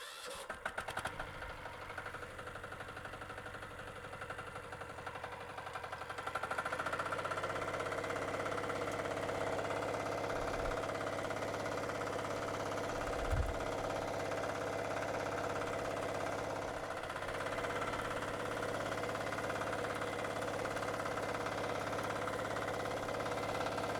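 A potato-digging machine's engine sputters and catches, then settles into a steady, loud running drone with a low throb. It keeps churning evenly to the end, with a brief low thump partway through.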